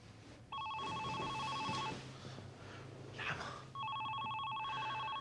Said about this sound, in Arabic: مين بده يدق لنا تليفون بهالوقت؟